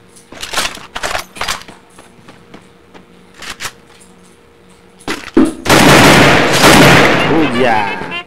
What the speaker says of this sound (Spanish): Disparando antes de tiempo, antes de que te vea.